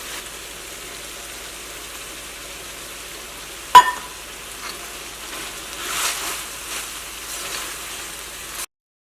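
Ground masala is stirred into chicken curry frying in a pan, giving a steady soft sizzle broken by one sharp utensil clack, followed by gentle scraping and stirring that swells slightly before stopping.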